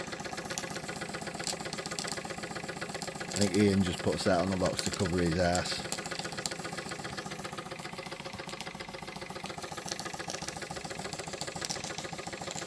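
A Wilesco D24 model steam engine runs with a steady rapid mechanical chatter under someone talking, and a brief louder surge partway through.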